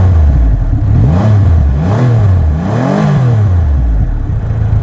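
A Triumph Rocket 3 motorcycle engine is revved repeatedly while stationary, several loud swelling blips rising and falling over a deep idle, close by with no talk.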